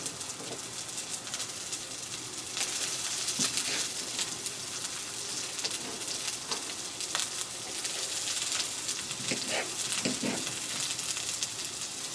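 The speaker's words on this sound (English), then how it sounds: "So I'm going to throw a little bit of onion here." Onion sizzles as it fries in a pan on a stove for tomato chicken rice soup, a steady close hiss and crackle with a few light stirring clicks.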